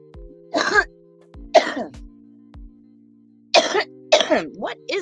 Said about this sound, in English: Every time I cough like that